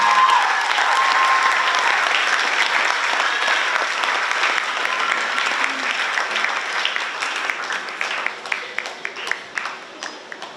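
A graduation commencement audience applauds a guest speaker, a thick sustained round of clapping that gradually thins into scattered individual claps near the end.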